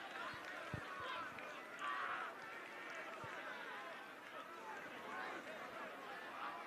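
Spectators at a schoolboy First XV rugby match between New Plymouth Boys' High and Hamilton Boys' High keep up a steady, distant roar and babble of shouting, with a few sharp thumps rising through the crowd noise.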